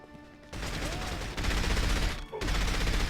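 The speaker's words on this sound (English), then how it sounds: "I upgraded the fire rate on my SMG, and it turned into an absolute death machine." A submachine gun with an upgraded fire rate in the video game 007 From Russia With Love fires in dense, loud rapid bursts, pausing briefly between sustained streams of shots.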